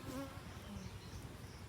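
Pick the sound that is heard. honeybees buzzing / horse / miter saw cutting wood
honeybees buzzing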